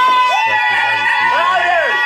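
A crowd shouting "yeah" on command during a lively reaction session, loud and close, with overlapping voices and a host's prompting talk running throughout.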